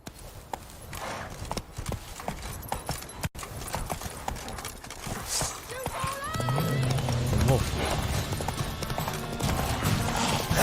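Roach, a horse in The Witcher 3, clip-clops with steady hoofbeats, then lets out a loud neigh with rising and falling whinnies in the second half, with ambient game sound underneath.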